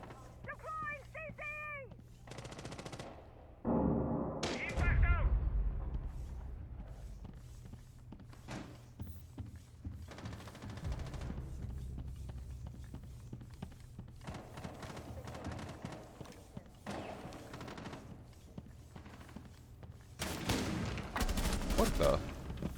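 Video game gunfire comes in scattered bursts: sharp shots separated by pauses, with a heavier cluster in the middle and another near the end, under a voice talking now and then.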